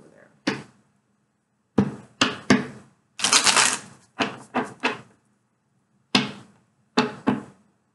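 Tarot cards are shuffled by hand close by: a series of short, sharp papery slaps separated by silences, plus one longer riffling burst in the middle.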